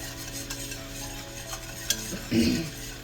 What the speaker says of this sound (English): So you just got to keep stirring it in.